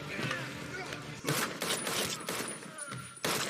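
Action-movie gunfire from John Wick Chapter 2 bursts out in several sharp volleys of shots, loud and dense, with people talking over the film soundtrack.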